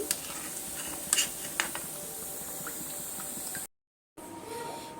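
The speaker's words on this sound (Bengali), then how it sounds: "এবার সমস্ত পকোড়াগুলো তেল থেকে তেল ঝরিয়ে আমি তুলে নিচ্ছি" Drumstick leaf pakoras being lifted out of hot frying oil, with a steady close sizzle and bubbling, a few sharp utensil clinks, and a short gap of silence near the end.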